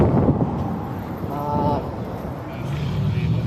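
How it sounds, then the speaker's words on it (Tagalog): Gusts of outdoor wind hitting the microphone, a low rumbling buffet that swells and eases throughout, with people speaking faintly beneath it. "Mahangin kasi guys."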